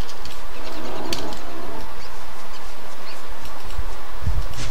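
Bird cooing and calling inside the survival video game Don't Starve Together, a few soft coos over busy game ambience and music, moderately loud, with no talking.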